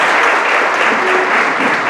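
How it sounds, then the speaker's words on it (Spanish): An audience at a free software conference talk breaks into steady, dense clapping that fills the whole stretch at even loudness, with no voices over it. "Un aplauso."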